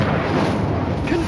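Casting the Incendio fire spell in Hogwarts Legacy produces a short, loud, rumbling fiery burst that fills the moment like a muffled blast.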